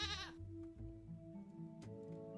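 A goat in the puzzle game Rusty Lake Paradise gives a short, nasal bleat at the start, followed by soft sustained game music tones.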